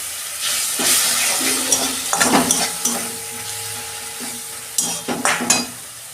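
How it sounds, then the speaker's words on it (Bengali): Ginger-garlic spice paste with green chilli fries in a pan as a little water is added, a loud hiss and sizzle, with scraping stirs and splashy bursts that come in uneven waves. "অল্প জল দিচ্ছি, মশলাটা কষাবো তো"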